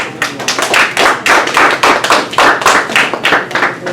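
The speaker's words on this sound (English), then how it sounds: "we want to give him a round of applause" Rhythmic unison clapping from an audience at a UNIA-ACL Baltimore gathering, loud and close, with regular beats repeating about three per second throughout.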